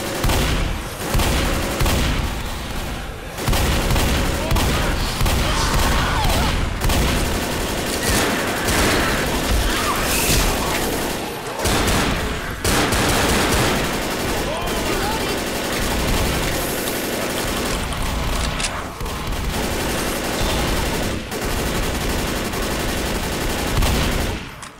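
Sustained bursts of automatic gunfire fill Left 4 Dead, loud and dense almost without pause, with brief gaps between volleys and a voice talking underneath.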